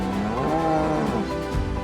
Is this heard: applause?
no